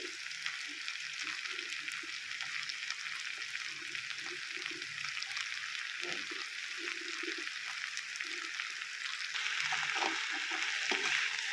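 Chopped ridge gourd fries in a pan with ginger-garlic paste, giving a steady close sizzle with soft stirring scrapes and clinks throughout.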